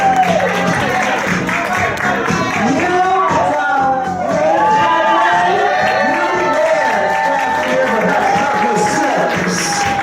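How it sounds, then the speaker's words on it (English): An audience at an awards roast and gala applauds Douglas, with dense, sustained clapping mixed with rising whoops and shouts of cheering that carry on throughout. "Let's give Douglas a big round of applause"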